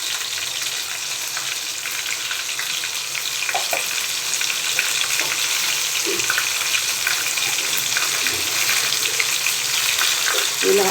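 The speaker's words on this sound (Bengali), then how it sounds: "দেখুন কী সুন্দর লাগছে তপসে মাছের গোল্ডেন ফ্রাইগুলোকে" Tapse fish fry golden in hot oil with a continuous, close, crackling sizzle, steady throughout with occasional louder pops.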